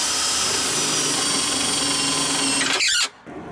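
A 3/16 Milwaukee Red Helix bit drills with a loud, steady whine and grinding for about three seconds, then stops abruptly; work is on a 1994 Ford Explorer Limited power window repair.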